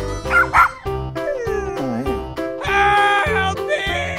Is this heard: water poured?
no